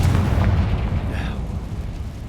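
Bombarda and Confringo spell blasts from Hogwarts Legacy gameplay erupt as heavy, booming explosions with a deep rumbling tail, loud and close.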